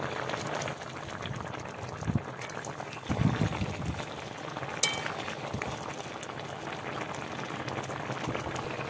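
A pot of lentil and egg curry with potatoes simmers after garam masala is stirred in, a steady soft bubbling close by with a couple of brief clinks and stirring knocks, no talking.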